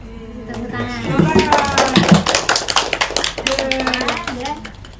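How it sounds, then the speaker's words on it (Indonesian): Students in a university micro-teaching class clap their hands in a burst of quick, uneven claps, with children's voices and talk mixed in throughout. "Tepuk tangan."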